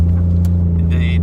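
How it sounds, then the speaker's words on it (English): Toyota 1JZ-engined Fox body car accelerating on a test drive, a steady loud low engine drone heard from inside, with a brief higher whine toward the end. "we're taking it for its test drive to see if what we did made any difference"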